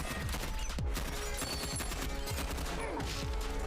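Gunfire in a scene from the Titans television series, heard as rapid, dense bursts of shots layered over a loud, busy soundtrack with constant action noise and no clear talk.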